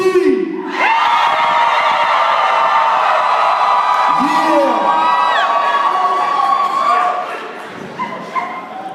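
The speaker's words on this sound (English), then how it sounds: "I want you to scream as loud as you can and as long as you can." A poetry slam audience screams loudly and continuously for several seconds, a dense sustained roar of many voices that begins abruptly, carries on at full strength, then fades into scattered shouts.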